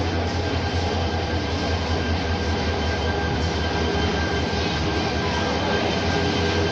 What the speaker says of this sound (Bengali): এই ট্রেন দিয়ে চাঁদপুর যাবো